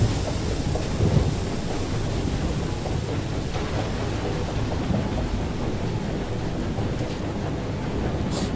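Thunderstorm in the video game FAR: Changing Tides: a dense, steady roar of heavy rain and deep rumbling thunder fills the whole stretch at constant loudness, with no voices.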